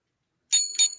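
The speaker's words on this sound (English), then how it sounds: "I'm using a hotel bell." A metal hotel desk bell rings sharply three times in quick succession after a moment of silence, bright and close, with no talking.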